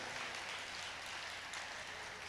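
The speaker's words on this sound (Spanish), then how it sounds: "Si puede darse más fuerte ese aplauso, dáselo más fuerte." A church congregation applauds during a sermon: a faint, steady wash of many hands clapping in a large hall, continuous and even throughout.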